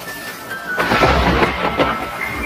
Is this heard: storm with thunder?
yes